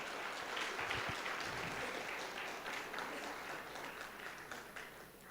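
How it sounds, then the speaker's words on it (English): An audience at an awards ceremony in Bengaluru gives sustained applause for a famous cricketer, with dense clapping that swells early and then fades slightly toward the end. "Some round of applause for Mahendra Singh Dhoni"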